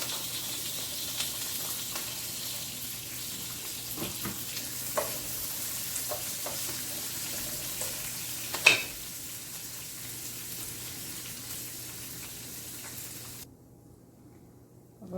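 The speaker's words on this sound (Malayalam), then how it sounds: "ഇച്ചിരി എണ്ണ വെച്ച് പാൻ വെച്ച് എണ്ണയൊക്കെ വെച്ച് ഉള്ളിയും പിന്നെ നമ്മുടെ ഈ പയറിൻ്റെ അതും കൂടെ ഒന്ന് ഇട്ട് കൊടുക്കുകയാണ്" Onions and beans fry in a little oil in a pan, a faint, steady sizzle with occasional light clicks and one louder knock partway through, heard without talk.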